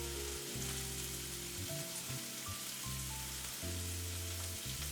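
Onions frying in a pan, seasoned with a pinch of salt and pepper, give a steady close sizzle with a soft crackling texture that carries on without a break.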